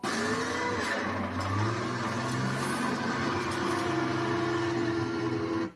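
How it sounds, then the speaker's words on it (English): Tank engine drone with a deep, steady rumble and grinding mechanical whine, continuous and fairly loud, like armored vehicles rolling forward. "countries would most likely invade with tanks, and this is what that would sound like."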